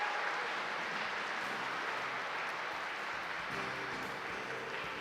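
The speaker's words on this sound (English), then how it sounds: "give them all a round of applause." Sustained applause from a large live festival audience, a dense, even wash of clapping that holds steady throughout without pause.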